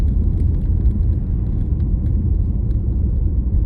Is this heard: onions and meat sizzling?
no